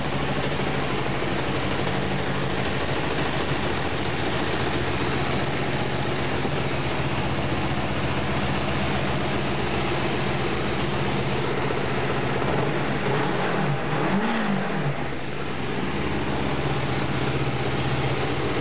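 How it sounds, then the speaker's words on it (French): Kawasaki GPZ 500 S motorcycle engine idling at a raised speed after carburetor reassembly, a steady close, loud low throb that holds even throughout with a brief rise around the middle. "Avec un ralenti un peu plus haut."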